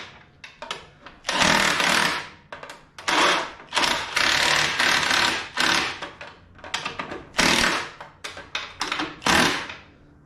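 Power tool with a 7/16 socket on an extension driving the tail light nuts on a Harley-Davidson CVO, heard as close, loud bursts of whirring and rattling, stopping and starting in short irregular runs.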